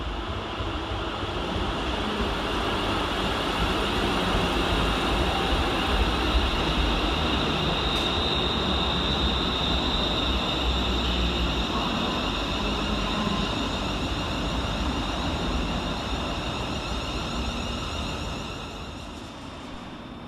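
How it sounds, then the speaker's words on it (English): ScotRail Class 380 electric train 380018 arriving at Paisley Gilmour Street station, a sustained rumbling roll with a steady high whine, loud and even before easing off slightly toward the end. "Arriving next into the station is 380018, working the 1310 Scotrail service from Glasgow Central to Weems"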